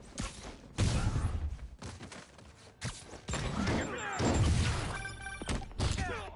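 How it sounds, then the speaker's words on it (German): Gunfire in a Spider-Man video game comes as several broad, noisy bursts mixed with heavy thuds and crashes, loud and irregular across the scene. "Spider-Man, hier wurden Schüsse gemeldet"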